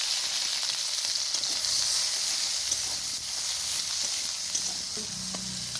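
Strips of green chilli sizzling in hot oil in a pan, a dense, bright frying hiss that stays loud and steady, with a couple of small stirring knocks near the end.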